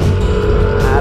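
A motorcycle engine drones steadily while being ridden, recorded from a GoPro chin mount, loud and close with a low rumbling hum and rushing wind.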